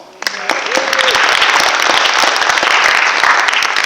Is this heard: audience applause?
yes